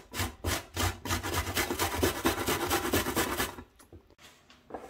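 A knife chops onion on a board in quick, regular strokes, a rapid series of crisp close-up taps that runs for several seconds, then slows to a few scattered cuts.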